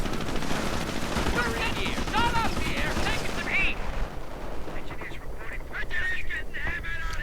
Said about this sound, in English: Heavy fire everywhere.